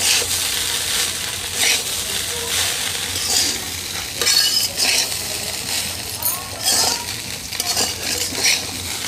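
Flattened rice pulao ingredients with five green chilies fry over low heat in a pan, giving a loud, continuous crackling sizzle broken by gentle stirring scrapes and light utensil clinks.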